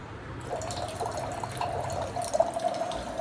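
Faint trickle of water pouring into a cup or glass, soft and steady for a few seconds with no talking.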